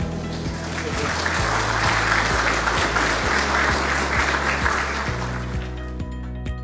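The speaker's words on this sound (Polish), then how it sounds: "Wielkie brawa." Sustained applause from an audience at the SGH Economic Award ceremony, a dense, steady clapping that stays loud throughout and eases slightly toward the end.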